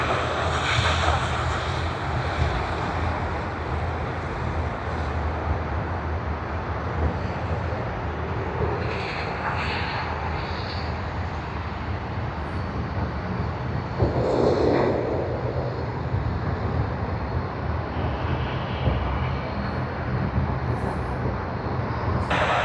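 Steady roar of an aircraft at Sydney Airport, a broad continuous rumble with wind buffeting the microphone and no clear change in level throughout.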